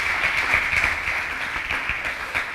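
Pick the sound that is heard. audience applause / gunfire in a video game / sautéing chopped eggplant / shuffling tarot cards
audience applause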